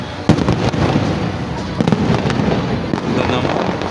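Fireworks at a pyro exhibition crackle and pop in a dense, continuous barrage, with sharp louder bursts standing out over a steady fizzing wash, close and loud with no talking.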